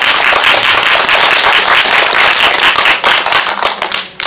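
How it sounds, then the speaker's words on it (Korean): Loud, dense clapping from a crowd, sustained for several seconds before thinning out and tapering near the end. "수어 통역사님께 큰 박수 부탁드리겠습니다."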